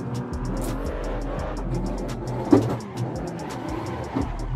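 A drifting car's engine in the racing game Assetto Corsa, with the stability control switched off, roars steadily and loudly throughout, with a brief sharp tire-squeal-like burst midway.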